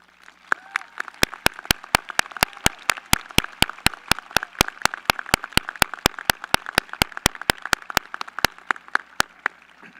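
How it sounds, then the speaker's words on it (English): An audience at the 2025 Eastern Regional High School commencement applauds staff members: a steady crowd clapping bed with a loud, evenly paced single clapper close by, lasting throughout. "I would ask all staff members to please stand for a much-deserved round of applause"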